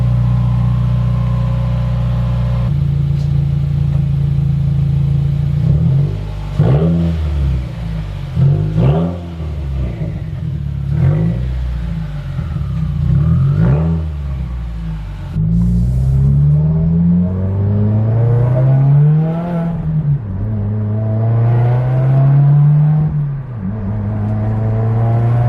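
A Subaru WRX with an aftermarket exhaust revs repeatedly, each rev climbing and falling with a deep, throaty tone over a loud, rumbling idle between bursts.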